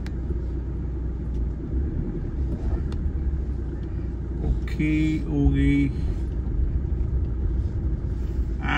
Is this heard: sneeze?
no